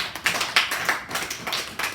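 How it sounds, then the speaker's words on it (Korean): A small class in an art-history lecture on Impressionism gives a brief round of applause, a soft, hissy patter of clapping with a few sharper claps standing out. "박수 한번 치주세요"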